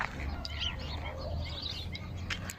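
Wild birds chirping and calling in a foggy early morning outdoors, scattered faint tweets and calls over a low steady background rumble, no voices.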